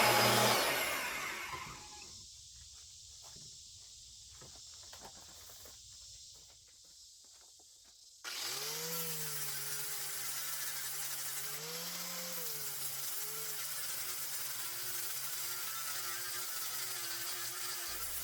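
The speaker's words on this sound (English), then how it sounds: "I went ahead and got the drill back up there and finished cleaning it out." After a quieter stretch, a drill starts up to clean a burr from a hole drilled in steel for a boat trailer crane build, whining steadily with a wavering pitch.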